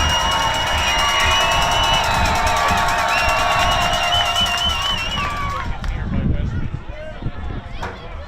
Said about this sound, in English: This crowd is hype. It is the loudest it's ever been here at the Den.